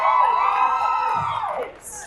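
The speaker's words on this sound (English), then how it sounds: "It's a pretty good cheer for 10:30 in the morning." A morning audience at a cosplay competition at the Armageddon Expo in Tauranga cheers and whoops loudly, the roar fading over about two seconds into a quieter tail.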